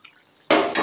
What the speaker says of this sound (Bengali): কড়াইতে রান্না করছি, রান্না করে সব গামলা গামলা ঢেলে নিই।